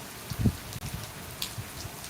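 Steady rain patters softly and continuously in Sandhwan village, Punjab, fairly faint, with a few slightly louder drops and no voices.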